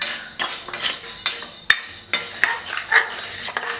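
Chana dal being dry-roasted in a pan, a metal spoon stirring and scraping with sharp clanks and a steady rustle of lentils, close and irregular, with no voices.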